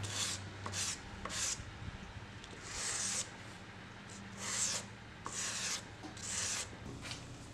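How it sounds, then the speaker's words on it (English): Hand sanding of a knife blade after heat treatment, working from 320 up to 1000 grit: repeated rough rubbing strokes in uneven bursts, close and moderately loud, with no talking. "After the heat treatment, I sanded the blade from 320 up to 1000 grit."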